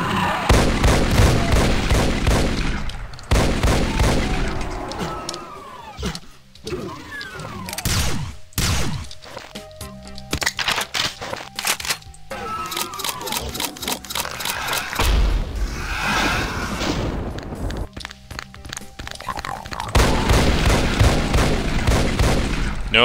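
Doom gameplay with a shotgun firing again and again in loud bursts, blasts mixed with other weapon fire and monster noises in a dense, chaotic stretch, with short quieter gaps between flurries.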